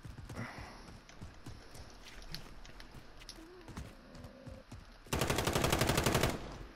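Video game gunfire in a duos match: a quiet stretch of scattered clicks and small shots, then a loud, rapid automatic burst that rattles for just over a second near the end.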